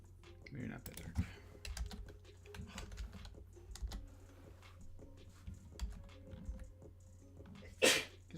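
One short, sharp sneeze breaks out near the end of a stretch of quiet computer keyboard typing and soft clicks, close and much louder than the tapping.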